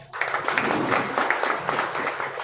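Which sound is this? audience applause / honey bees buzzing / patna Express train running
audience applause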